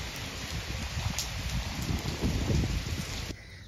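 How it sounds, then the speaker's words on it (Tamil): Heavy rain pours steadily outdoors in a garden near a shed in Hosur, a dense, loud hiss of drops with low patters and no voices, cutting off abruptly near the end. "செம்மையாக பெய்யுது மழை."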